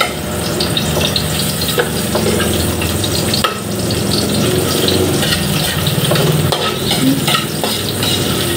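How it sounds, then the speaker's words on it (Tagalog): Garlic and onion saute in a hot pan with oil, giving a loud, continuous sizzle broken by repeated scraping and stirring strokes from close up. "Gisa-gisa lang natin."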